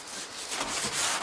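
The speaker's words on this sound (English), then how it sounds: "Scrub the teak just a little." A scrub brush works over the teak deck of a boat, making a steady, close, continuous bristly scraping with short rhythmic strokes and no voices.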